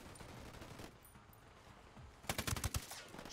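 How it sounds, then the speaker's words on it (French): Gunfire in the video game Ghost Recon Wildlands, a quick burst of several sharp rapid shots near the end after a quieter stretch of muffled game sound, fairly close and loud against the background. "Je tire."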